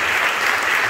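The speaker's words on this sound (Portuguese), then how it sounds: "Aplauda o Senhor." A church congregation claps together in a dense, continuous burst, a brief wash of many hands close and loud.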